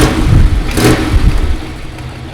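A car engine with an exhaust leak runs loudly close by, rumbling low and revving up briefly before settling back toward a steady idle.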